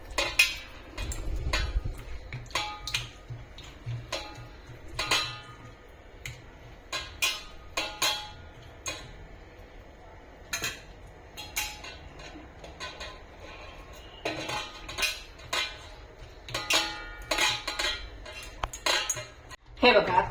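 A spoon clinks and scrapes against a bowl while corn and other ingredients are mixed together, giving an irregular run of bright close taps and rattles with quieter pauses between them.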